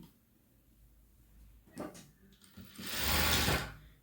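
A sewing machine stitches a boat neck blouse in two short bursts, the second longer and louder, with quiet handling between runs and no talking.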